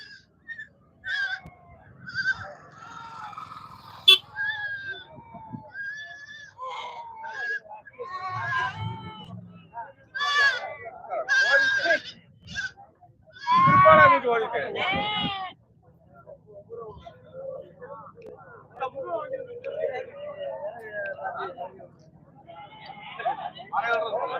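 Goats bleating amid a busy Friday goat market at Ettayapuram, with several calls near and far mixed into crowd chatter and voices talking throughout.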